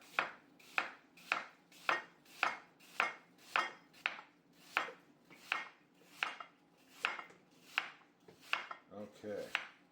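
A knife cuts through an apple on a board in about fifteen even, crisp chops, one roughly every two-thirds of a second, close and clear with no talk.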